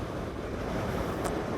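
Steady, loud wind roar buffets the microphone while riding a Super Soco TC Max 5000-watt electric motorcycle with no windscreen at speed, a continuous broadband rush with no talking.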